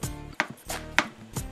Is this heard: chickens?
no